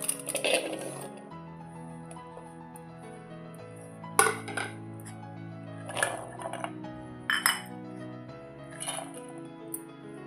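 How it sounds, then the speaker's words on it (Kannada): Peas, potato and carrot go into a cooking pot, a few scattered clinks and knocks against the metal with quiet gaps between them. "ಈಗ ಇವನ್ನೆಲ್ಲನೂ ಈ ಪಾತ್ರೆ ಒಳಗೆ ಹಾಕ್ಕೊತೀನಿ ನೋಡಿರಿ"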